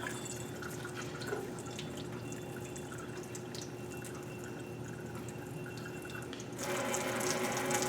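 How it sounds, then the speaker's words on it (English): Cold tap water runs steadily over a glass flask in a sink, a continuous close splashing stream that grows louder and brighter near the end. "Let's see if I can fill the entire thing by running it under cold water."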